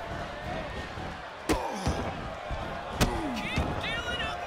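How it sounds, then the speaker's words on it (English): A wrestler slams an opponent onto the ring mat at a professional wrestling show, giving several sharp, loud thuds. Crowd noise runs underneath and a commentator talks over them. "Grabbing their opponent by the skull and slamming him down."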